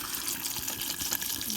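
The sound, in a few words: water poured into a pot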